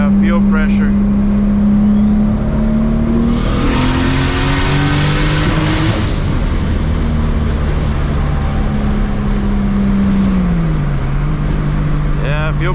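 A MKIV Toyota Supra turbo engine with a boost leak revs up hard at full throttle with a rising whine, then eases back to a steady rumble, a voice speaking briefly over it.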